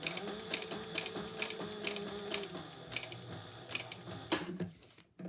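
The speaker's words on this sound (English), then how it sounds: "I'm just going to go ahead and back stitch." A sewing machine back stitches on a bag-making project, a close mechanical whir with rapid rhythmic clatter, a steady tone for the first half, then a few louder clicks toward the end.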